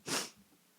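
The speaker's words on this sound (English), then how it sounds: "I gotta sneeze again." A single person's sneeze bursts out loud and close in a sharp breathy blast, then trails off into quiet breathing.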